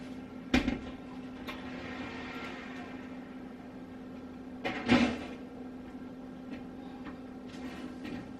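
Lidded pot of meatballs and potatoes slid into a home oven, with two distinct thumps and clanks as the pot goes in and the oven door shuts, over a steady low appliance hum.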